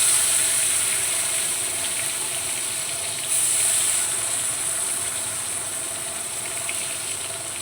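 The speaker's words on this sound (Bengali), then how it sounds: "এই তেলের মধ্যেই কালো জিরা ফোড়ন দিয়ে টমেটো দিয়ে দেবো।" Continuous bright sizzle and crackle of hot oil in a wok as black cumin seeds and tomatoes are added, steady throughout with a brief surge midway, close and without any talking.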